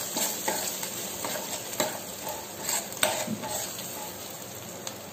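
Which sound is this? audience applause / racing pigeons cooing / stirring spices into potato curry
stirring spices into potato curry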